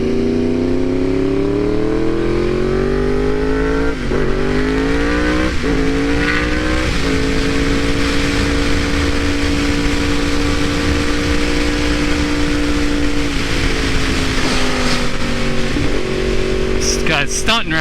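A 2015 Yamaha R1 sport bike ridden on the street, its engine droning loud and close with repeated upshifts and rising revs, then a long steady cruise before more gear changes, while a rider talks over it.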